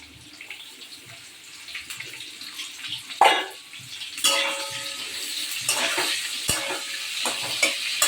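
Onions dropped into a pan of frying potatoes for an egg omelette curry, a soft sizzle and scraping stir at first, then a louder burst of hissing and spatula clatter as the onions hit the hot oil.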